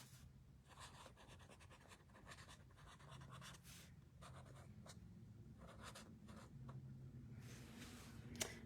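Pen writing the days of the week into a weekly planner, a steady run of small scratchy strokes with short pauses between words, close up over a low background hum.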